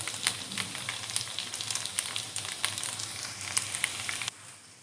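Poha semolina bites sizzle in a hot tempering pan, a crackling, spitting fry with sharp pops over a steady hiss that drops off suddenly near the end.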